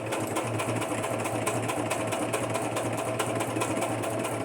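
Sewing machine back stitching through several layers of cardstock on a junk journal cover, a steady, fast mechanical whir running evenly and fairly quietly with no talk.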